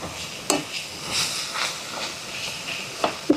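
Fiddlehead fern, egg and potato sizzle in a frying pan with a soft continuous hiss and a few sharp utensil clicks against the pan.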